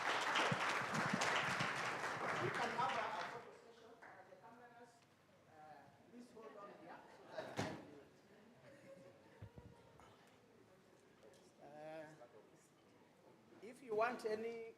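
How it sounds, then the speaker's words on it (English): At a media and civil society conference, the audience claps loudly for departing panelists. The applause lasts a few seconds and then gives way to scattered talk and movement. "A round of applause as they leave."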